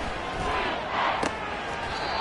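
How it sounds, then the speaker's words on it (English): A loud stadium crowd roars throughout a Madden 24 NFL video game broadcast of Chiefs versus Raiders, a dense sustained cheer swelling briefly near the middle. "This crowd turning up the decibel level."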